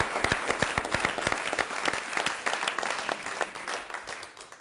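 An audience applauds a magician at a live show, with dense, continuous clapping from many hands that stays strong throughout and eases slightly toward the end.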